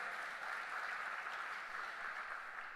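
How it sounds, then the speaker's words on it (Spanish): Steady, dense applause from a church congregation during a sermon, filling the whole stretch at an even level with no breaks or voices. "denle un fuerte aplauso"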